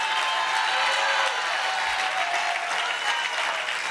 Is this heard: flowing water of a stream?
no